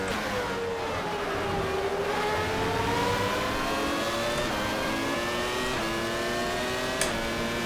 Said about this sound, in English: A Renault engine in the back making pretty short work of whatever's in the back of that Ligier